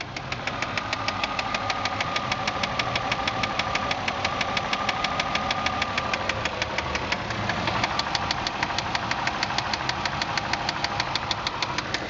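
A 2003 Ford Escape XLS 4WD runs steadily at idle, its engine holding an even, rhythmic ticking drone that stays loud and close throughout with no voices.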